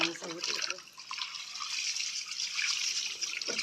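A continuous stream of water splashing and pouring over a puppy being bathed, with a voice briefly heard at the start.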